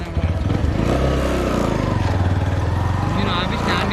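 A modified motorcycle, described alongside a V6, runs close by with a low, pulsing engine throb and rhythmic chugging throughout, while voices talk over it.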